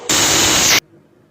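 Cymbals, struck with a stick or clashed together, give a loud, hissing, steady metallic wash that starts sharply, holds for under a second and then stops abruptly.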